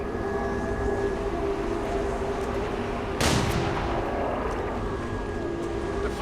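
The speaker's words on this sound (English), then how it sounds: "who can now shoot his pistol" A Sharpshooter firing a pistol in XCOM 2, a single loud, sharp shot about halfway through that stands out against a steady bed of game rumble and hum.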